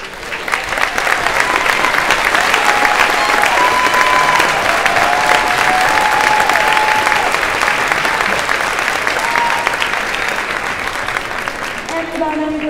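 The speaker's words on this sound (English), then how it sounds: "Let's give them a round of applause." Loud, steady applause fills a school auditorium at a parade-of-bands concert, with voices and cheers mixed in, sustained for over ten seconds before fading slightly.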